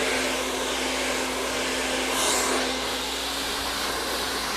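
A hair dryer blows steadily at a salon blow-dry, a loud continuous whoosh with a faint tonal hum that swells slightly near the middle and never lets up.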